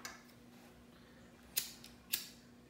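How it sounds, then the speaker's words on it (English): Scissors snipping a chenille loop while tying a crab claw fly, two sharp close snips after a quieter click, over a faint steady hum. "So from here on this loop, we're just gonna cut it"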